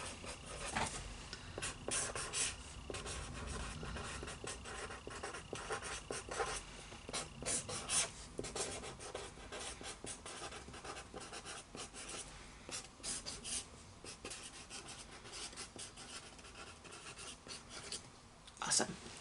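A pen draws and labels rectangles on paper during a math lesson, with quiet, continuous scratchy strokes and brief pauses between marks, close but faint, and a voice talks over parts of it.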